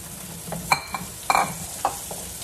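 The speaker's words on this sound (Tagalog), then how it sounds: "Parang i-fry ko lang ng konti." Potatoes and carrots frying in oil for a Korean-style chicken curry, with a soft sizzle broken by a few short stirring scrapes, quiet and close.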